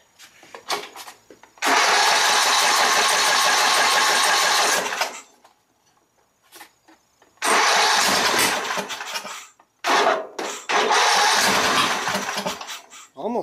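An Exmark Viking riding mower engine cranks in three long bursts, a steady loud whirring grind that briefly seems close to firing but never catches, with short pauses between attempts.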